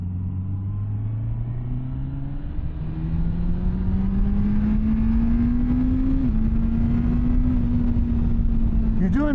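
A Suzuki GSX-S1000GT motorcycle accelerating hard, its engine note climbing steadily through the gears with brief quick-shifter dips, a loud continuous drone under wind rumble from the rider's position.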